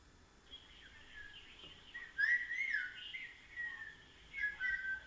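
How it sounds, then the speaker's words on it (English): A seven-year-old girl's whistling played back from a recording, a thin warbling melodic tone rising and falling in short phrases, faint over a quiet room. "Listen to my kid whistle."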